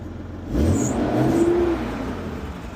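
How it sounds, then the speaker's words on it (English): A Toyota 4Runner engine revs up once from idle, the pitch rising and holding briefly before settling back to a steady idle, close and loud. "Rev it up a few times, make sure."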